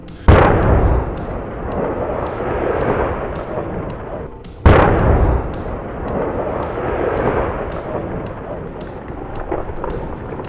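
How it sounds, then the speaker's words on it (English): Two loud explosive blasts break rock on a sheer cliff for road construction, each a sharp boom followed by a long rumbling roar and debris noise, spaced about four seconds apart. "explosives are carefully loaded in controlled amounts to break the rock in sections, ensuring that the overall stability of the mountain is not compromised after each blast"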